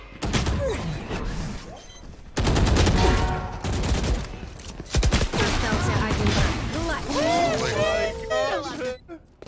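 Rapid automatic gunfire from a Vandal rifle in the tactical shooter Valorant, loud bursts and crackling shots under an excited commentator's voice and game effects.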